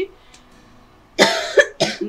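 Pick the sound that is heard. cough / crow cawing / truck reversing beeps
cough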